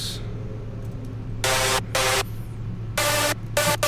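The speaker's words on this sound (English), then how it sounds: "just super distorted lead." Heavily distorted synth lead built from two saw waves, one an octave up, with many detuned voices, in an FL Studio production of Ke$ha's The Harold Song: four harsh, buzzing, noise-rich bursts standing alone.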